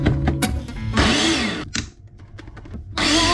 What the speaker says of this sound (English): get the blender working, we just have to make sure that the inverter is on